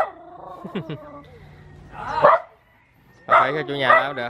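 A dog barks in short bursts and whines between, close by, while people talk over it.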